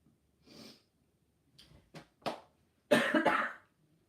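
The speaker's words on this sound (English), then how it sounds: "I've got a cough, it's because I'm getting over COVID" A person getting over COVID coughs several times, a few short separate hacks followed by a louder cluster of rough coughs, close to the microphone in a quiet room.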